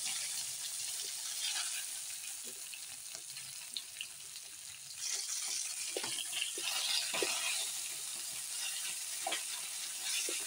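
Fish sizzle and crackle while frying in oil in a wok, a steady hiss broken by small pops and a few scraping stirs.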